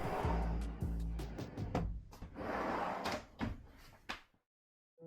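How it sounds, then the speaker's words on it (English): An IKEA PAX wardrobe drawer with soft-close runners slides and eases shut, giving a few soft rolling and rumbling sweeps with light knocks, close and fairly quiet, then falling to silence. "my favorite part about each one of these drawers is the soft close"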